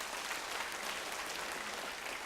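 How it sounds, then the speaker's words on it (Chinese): Church congregation clapping hands together in blessing during a Sunday worship service, a steady dense wash of applause held at even loudness throughout, with no voices over it. "拍手甲因祝福吼"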